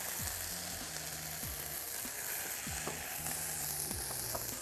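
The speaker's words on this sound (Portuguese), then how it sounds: "A gente está refogando a cebola com o alho." Onion and garlic sautéing in a pan, a steady broadband sizzle with no pauses, while a faint tonal melody plays underneath the whole time.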